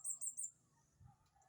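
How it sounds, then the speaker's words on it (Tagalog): Birds chirp around a quiet farm, three quick bright calls in a row followed by fainter calls farther off, with no talk. "may mga ibon sa paligid."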